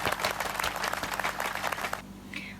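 Event audience at a motivational speaker seminar claps for a speaker, brisk full applause for about two seconds that cuts off into a quiet room.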